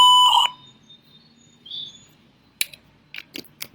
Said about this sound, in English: At the end, you're going to hear a beep, beep, kind of a censored sound